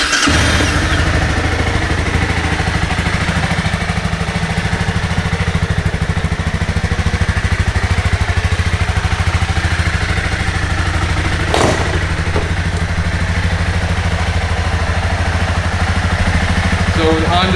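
2018 Honda CBR 300R motorcycle engine cranking and catching, then settling into a steady, loud, close idle with an even rapid throb throughout.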